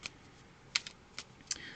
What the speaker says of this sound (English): I'm just going to pause while I shuffle and deal out the cards